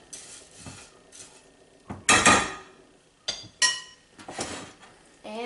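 Coconut granola is tossed with cinnamon in a pan, giving a series of irregular clinks and scraping rattles, loud and close, with short pauses between bursts.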